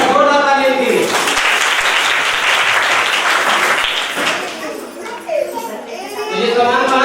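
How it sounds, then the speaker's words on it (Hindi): A crowd applauds loudly at an award ceremony in India, steady dense clapping for about four seconds before fading, with voices and a speaker talking at the start and end. "एक बार जोरदार तालियां दीजिए।"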